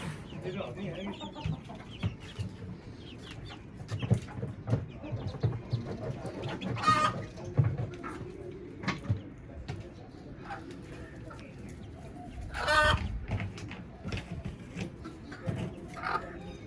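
Several chickens cluck and murmur close by, with scattered louder squawks and soft cooing, and people talk at times in the background.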